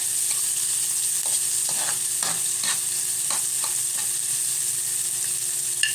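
Onion sautés in a pan for a simple misua with patola dish, a constant close sizzle broken by repeated stirring scrapes at an irregular rhythm, with no voices.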